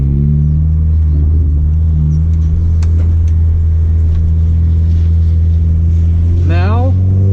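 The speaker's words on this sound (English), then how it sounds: "release the clutch slowly, and then give it gas when your car starts moving." A manual car pulls away from a stop in first gear, its engine droning low and steady up close before revving briefly near the end.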